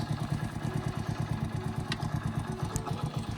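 A motorcycle engine idles nearby with a steady, chugging low rumble and a faint rattle, with no talking.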